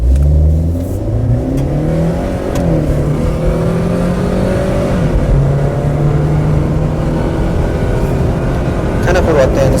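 A Chevrolet Gentra with a stage 1 tune running on gas and petrol revs hard under acceleration, its loud, close engine note climbing and falling in sweeping pitch over about ten seconds.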